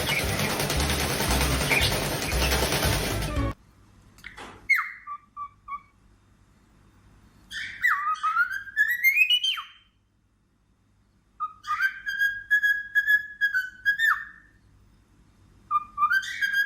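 A pet parrot makes squeaky, whistling bursts that imitate someone fixing something. The rising chirps come in separate close clusters with silent gaps between them.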